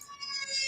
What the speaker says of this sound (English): You can hear the tornado sirens in the background behind me.